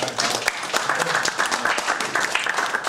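An audience at a chamber of commerce event gives a contestant named Bob a round of applause, steady dense clapping for a few seconds with some voices mixed in.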